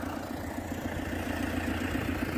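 An MTZ 1025.2 tractor engine runs steadily while pulling a disk harrow through a field, a low continuous drone at moderate distance with no talk.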